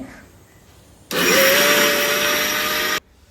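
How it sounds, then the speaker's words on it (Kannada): A mixer grinder grinding rice batter for papad whirs loudly for about two seconds, starting abruptly and cutting off sharply, with quiet room sound before and after. "ಇದು ಸೆಕೆಂಡ್ ಟ್ರಿಪ್ಪು ಮಿಕ್ಸಿ ಮಾಡ್ತಾ ಇದ್ದಾರೆ"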